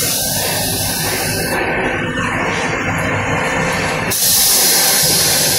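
A train toilet flush that runs without water gives a loud continuous rushing hiss close by; it shifts in tone midway and then surges brighter toward the end.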